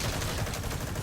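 Gunfire in Metal Gear Solid V rattles as a dense, rapid automatic burst, loud and sustained through the whole moment.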